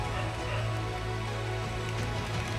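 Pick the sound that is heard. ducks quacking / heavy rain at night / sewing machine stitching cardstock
heavy rain at night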